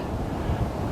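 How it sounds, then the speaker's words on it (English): Broadband rushing of a river far below a rocky cliff in Colorado, a steady wash of water noise mixed with wind buffeting the microphone. "hopefully you can hear the rush of the river below"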